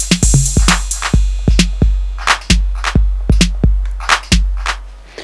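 A Roland 808-style drum module loops a rhythm pattern with no hi-hats: punchy kicks and snappy snare hits in a steady groove, loud and dry with nothing else over it.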